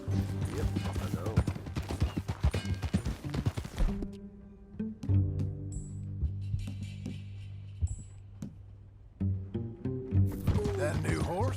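Horse hooves clip-clop while riding in Red Dead Redemption 2, a rhythmic beat mixed with a voice and music at first, then sparser thuds and clicks before the sound swells again at the end.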